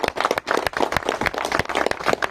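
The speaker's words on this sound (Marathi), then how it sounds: "तर एकदा जबरदस्त टाळ्या सर्वांसाठी" Audience at a public meeting in Karanja clapping, a dense burst of handclaps with uneven rhythm, fairly close and loud, no speech over it.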